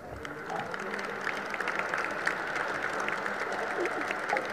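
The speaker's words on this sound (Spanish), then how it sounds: "Por favor, recíbanla con un fuerte aplauso." Audience applause at a sports commission event in Mexico, a steady wash of clapping from a crowd sustained across the whole stretch at moderate loudness.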